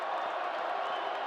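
A homecoming crowd at a college football game, with Vandals fans in the stands roaring in a dense, steady wall of cheering and clapping that fills the whole moment.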